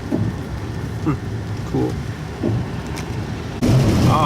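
Steady wet sleet of mixed snow and rain patters on a surface outdoors on a nasty day, a continuous hiss with a louder burst near the end, and a brief spoken word.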